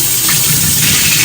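Rice being rinsed in water for a Jamaican curry chicken meal, a steady broadband swishing and sloshing of water that holds close and even for its short length, with no voices over it.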